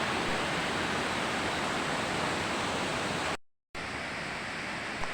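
Meenmoottil waterfall with river water tumbling over rocks, a steady broadband roar that holds unbroken, drops out in a brief gap, then resumes at the same level.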